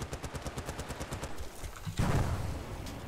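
Automatic rifle fire in Battlefield: Bad Company rattles in a fast, regular burst of sharp shots, then a loud, close explosion-like blast erupts and rumbles on with scattered shots.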